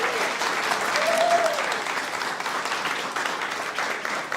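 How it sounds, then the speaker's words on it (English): An audience at a guide dog class graduation ceremony gives a sustained, even round of applause, dense clapping from many people filling the whole stretch. "Let's have one more round of applause for Class 982."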